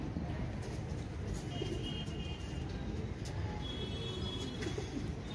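Pigeons, including a male racing pigeon, give soft, faint coos against a steady background murmur, with occasional brief chirps above the low hum.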